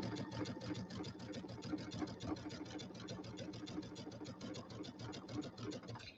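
A sewing machine stitches binding onto a winter settee pillow, its needle running in a fast, even, steady rhythm with a low motor hum beneath, moderately quiet and close, with no talking.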